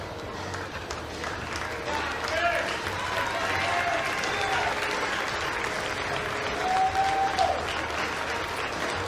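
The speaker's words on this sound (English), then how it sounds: "Big applause from the Nebraska fans." Nebraska fans in the stands applaud a departing pitcher at an American Legion Baseball World Series game, a steady wash of crowd clapping throughout, with a voice talking over it.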